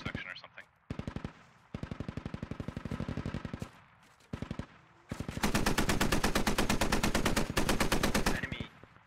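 Machine guns in the Squad video game rattle in long, evenly spaced automatic bursts, the last burst louder and nearer than the earlier ones, with short gaps between strings of shots.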